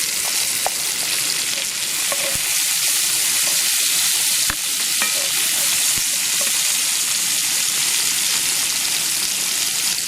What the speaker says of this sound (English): The trick to a nice paella is to do a good frying of these little things.